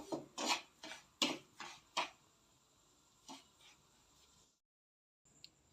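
Semolina (rava) roasts in a pan over a low flame while a utensil stirs and scrapes it, making about half a dozen close, dry scraping strokes in a quick rhythm, then fewer strokes, and then quiet.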